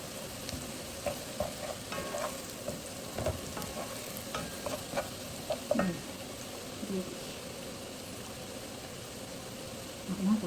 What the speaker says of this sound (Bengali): সরিষা তেল দিয়ে বাগার দিতেছি।